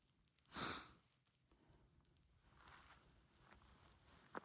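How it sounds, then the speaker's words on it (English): A hiker sniffles once sharply and close on a snowy Appalachian Trail section, followed by quieter breathing and soft footsteps on the path. "I'll turn this off so you don't have to keep listening to me sniffle"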